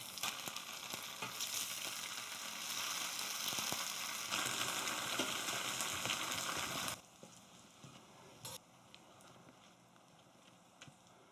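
Tofu fries in a pan for a tofu-kimchi dish, a dense, steady sizzle with scattered crackles and pops. The sizzle drops abruptly to a much quieter, softer hiss partway through, with occasional spits and no talking.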